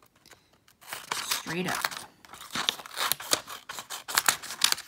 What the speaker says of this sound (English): I folded my half a sheet of paper in half again. And I'm just gonna cut it.